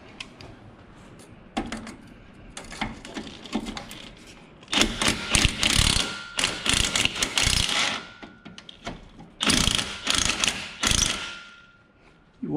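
A ratchet wrench spins 13 mm nuts off the rear sway bar of a Chevy Camaro, giving bursts of close, loud clicking in irregular runs separated by short pauses, with no talking.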